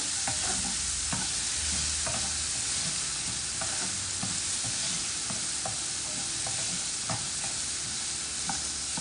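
Ripe nendran plantain fries in ghee in a non-stick pan, a soft continuous sizzle broken by frequent light scrapes and stirring taps.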